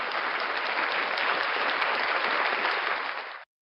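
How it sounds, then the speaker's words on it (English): An audience gives a steady round of applause at a live show, dense clapping sustained for about three and a half seconds before stopping abruptly. "round of applause"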